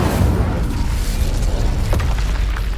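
Incendio fire spell blast in the video game Hogwarts Legacy, a dense booming, crackling burst that roars steadily for nearly three seconds, loud and close, with no talk.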